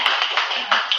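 An audience at an open mic night claps in a short, uneven burst of hand claps, fairly close and bright, lasting about a second.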